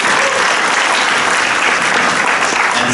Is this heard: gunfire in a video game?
no